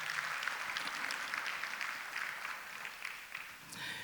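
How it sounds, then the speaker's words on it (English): Sustained applause from an audience, a dense patter of many hands clapping at a moderate distance, with no one speaking. "give Splash Out a big round of applause"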